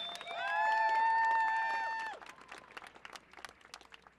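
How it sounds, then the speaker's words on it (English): Crowd at a rally breaks into loud cheering and whooping for about two seconds, then drops to scattered claps and a few lingering shouts. "That deserves a huge cheer"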